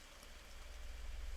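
Rain falling in the video game Forest of Drizzling Rain, a soft continuous hiss of drizzle with a low hum beneath it, faint and steady with no voices.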